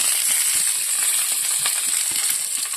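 Garlic sautés in hot oil in a pan for lentil curry, giving a loud, steady, close sizzle with scattered crackles and pops throughout.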